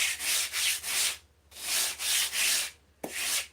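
A foam RC fuselage plug is sanded with 100 grit sandpaper in steady back-and-forth rasping strokes, three in each of two bursts with a short pause between them and a small knock near the end, close and alone.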